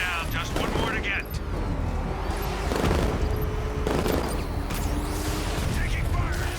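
Gunfire during a Batman: Arkham Knight vehicle fight, with dense bursts of shots and booming impacts under constant battle noise while in-game voices shout over it.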